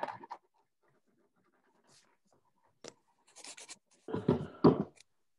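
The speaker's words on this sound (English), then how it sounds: "You don't realize till you're recording something how noisy pens can be." Faint, intermittent scratches of a pen on paper, with quiet gaps between strokes and a louder scribbling burst near the end.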